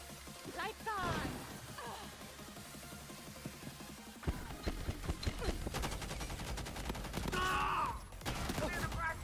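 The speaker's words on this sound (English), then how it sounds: "Throwing flashbang." Bursts of rapid gunfire and a flashbang in Rainbow Six Mobile, loud rattling shots that start and stop in clusters, with a voice speaking over the action.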